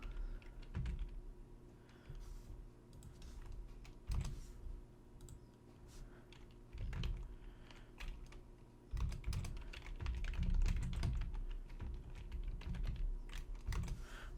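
Typing on a Chromebook keyboard while signing up for CodePen: scattered soft key clicks in short bursts and pauses, close and quiet over a faint steady background.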